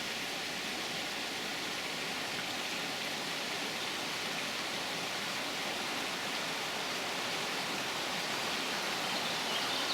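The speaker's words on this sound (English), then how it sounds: "running water" Running water of the River Greta tumbling over a jumbled mass of boulders, a steady broadband rush that stays loud and unbroken throughout with no voices.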